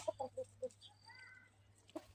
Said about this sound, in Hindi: ये ना दोनों लड़ते हैं, मुर्गियां लड़ती हैं।